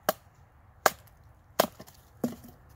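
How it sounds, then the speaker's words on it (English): Wood splits under a Cold Steel SRK knife in four sharp, hollow cracks, spaced roughly evenly and heard up close with no other noise around them. "I love the sound of wood when it splits and it makes that dunk dunk."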